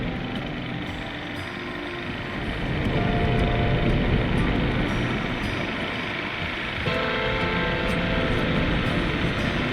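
A toy remote-control plane in a video game flies with a steady, loud motor drone and buzz that holds throughout and grows slightly louder partway.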